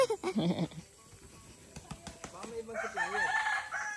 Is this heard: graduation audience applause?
no